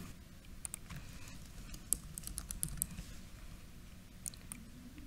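Fingers type a name on a computer keyboard, a quiet, uneven patter of light key clicks with brief pauses, close and soft, with no voice over it.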